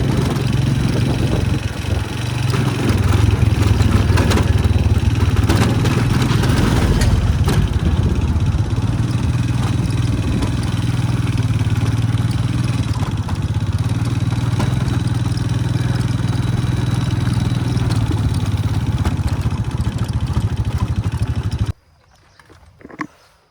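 A motorcycle rides across a small bridge in Hin Heup, Vientiane Province, its engine droning loudly and steadily up close with wind buffeting, then cutting out abruptly near the end.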